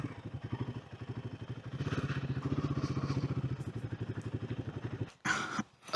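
At a Bhutan border checkpost, a motorcycle engine idles with a steady, close, thumping pulse for several seconds, then cuts off, leaving a brief silence and a couple of loud clunks and rustles.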